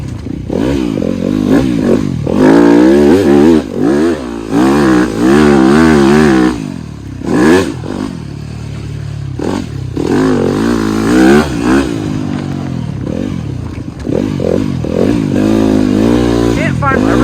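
Motorcycle engine revving and pulling hard while being ridden, loud and close with rising and falling pitch sweeps, a rider's voice talking over it at times.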